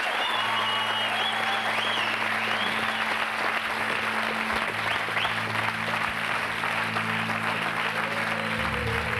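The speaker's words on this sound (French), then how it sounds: "Patrick, c'est à vous, sous les applaudissements." A French TV studio audience applauds steadily as a singer is invited to perform, a dense, continuous wash of clapping over sustained music tones and a brief sung note.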